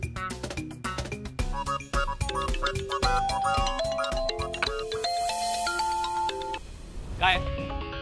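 A phone ringtone plays a bright melodic sequence of repeating electronic tones during a call, steady and fairly loud throughout, with some speech around it.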